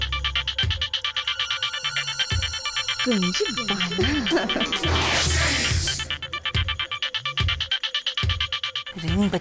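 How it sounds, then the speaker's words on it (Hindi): A telephone ringtone repeating in a home scene from a Hindi TV drama, a bright warbling electronic tone that pulses steadily and carries on while someone talks over it partway through. "रिंग बजे जा रही है, फोन क्यों नहीं उठाती?"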